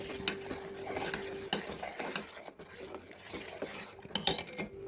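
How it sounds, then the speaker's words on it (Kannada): Mango pulp custard being stirred continuously in a pot, with a spoon scraping and clinking against the metal in an irregular rhythm, moderately close and without talk. "ತೆಗೆದಿಟ್ಕೊಂಡಿರೋ ಮ್ಯಾಂಗೋ ಪಲ್ಪನ್ನು ಸ್ವಲ್ಪನೇ ಸೇರಿಸ್ತಾ ತಿರುಗಿಸ್ತಾ ಇರ್ತೀನಿ, ಕಂಟಿನ್ಯೂಸ್ ತಿರುಗಿಸ್ತೀನಿ."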